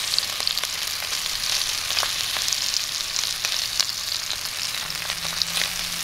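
Farmer sausage sizzling and frying steadily in a hot pan, a continuous crackling hiss with small pops throughout, close up and with no talking.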